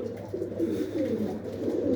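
Pigeons cooing close by in a loft at the start of breeding season, low repeated throaty coos rolling continuously over a soft background.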